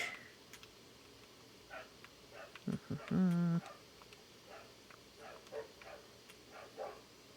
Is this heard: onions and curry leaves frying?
no